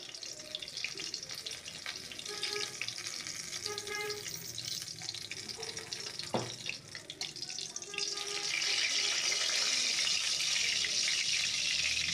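Hilsa fish frying in hot oil in a home kitchen, giving a constant crackling sizzle that grows louder and denser partway through, with faint clinks of handling.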